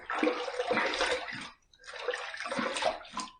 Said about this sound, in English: I am going to wet my face just a little bit